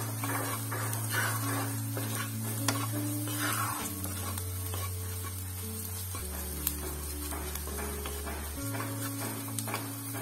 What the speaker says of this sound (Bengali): আর স্বাদমতো লঙ্কা গুঁড়ো দিয়ে সমস্ত মশলা আমি ভালো করে ভেজে নেব।